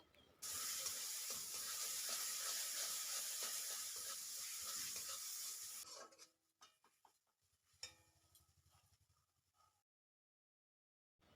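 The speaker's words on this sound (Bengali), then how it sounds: "এখন এই সব উপকরণ দিয়েও আমি আরও কিছুক্ষণ কষিয়ে নেব।" Coriander and cumin powder fry in hot oil for a Bengali Pabda fish jhal, a loud steady sizzle for about six seconds, then softer scraping and stirring clatter before falling silent.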